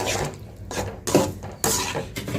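A utensil scrapes and swirls through a wet mixture of greens and mashed lentils in a pot, a few uneven stirring strokes close by.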